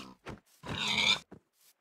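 A pig in Minecraft Bedrock grunts in short, gruff bursts, a couple of quick snorts around one longer, louder grunt, fairly faint and without any talking.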